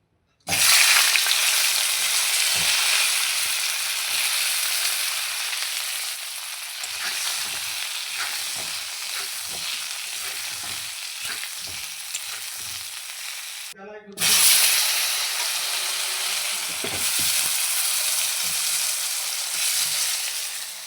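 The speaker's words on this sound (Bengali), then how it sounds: "আলু ভাজা হয়ে গেছে, এবারে ফুলকপিটা ভেজে নেব।" Cauliflower frying in a pan gives a loud, continuous crackling sizzle with scattered stirring knocks, a brief pause near the middle, then the hiss returns strongly, no talk.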